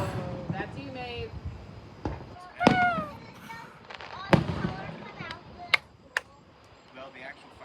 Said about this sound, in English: the actual firework itself explodes open